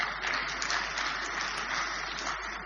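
An audience at a spiritual talk applauds, a dense, even wash of many hands clapping at a moderate distance, sustained without pauses or speech.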